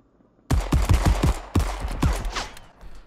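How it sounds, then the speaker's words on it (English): Rapid gunfire in the space-pirate shooter Marauders during a PvP fight: a loud, close burst of about a dozen sharp shots in quick rhythm, followed by a fading tail. "people are shooting up there"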